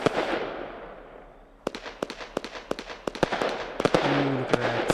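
Fireworks explode in the Fireworks Mania video game, a fading crackle trailing into a rapid series of sharp, loud bangs and pops in an irregular rhythm, with layered bursts near the end.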